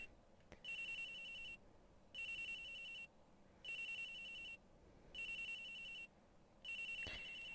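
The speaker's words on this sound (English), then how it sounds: "Agent Hicks's phone. It's ringing from somewhere, sir." Agent Hicks's phone rings from somewhere out of sight in what may be a video game, with five evenly spaced electronic ring bursts, each about a second long, separated by short pauses and sounding fairly clear over a quiet background.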